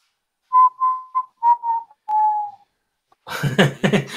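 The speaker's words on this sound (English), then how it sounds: "that whistle is like loud" Loud, tuneful whistling by a single person at a live stream, a run of clear sustained notes and short phrases, followed by a burst of noisy sound at the end.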